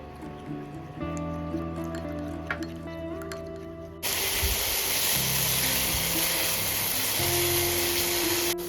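Gravy for a Bengali doi katla, a fish curry with yogurt, fries in oil in a pan. A soft background hum gives way halfway through to a steady, loud sizzle that continues without a break.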